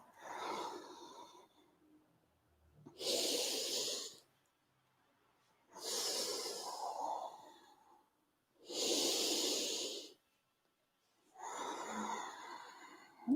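Slow, rhythmic breathing during an energising hatha yoga session: five long, even breaths alternate with short pauses, close and fairly soft, with each inhale and exhale clearly audible and no other sound around them.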